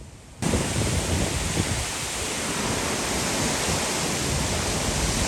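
A storm with high winds roars around a moored boat, with a dense, loud, unbroken rush of wind and water that surges in sharply after a brief quieter start and then holds steady.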